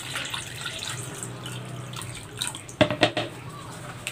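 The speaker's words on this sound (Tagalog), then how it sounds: "Maglalagay ako ng tubig dito sa bowl." Tap water runs steadily into a bowl in a home kitchen while milkfish paksiw is prepared, a continuous splashing stream with a few sharper clinks near the end.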